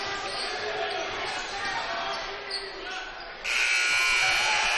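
End-of-period buzzer sounds in a high school boys basketball gym, a loud sustained electronic tone cutting in over crowd noise and ball bounces, with an announcer talking.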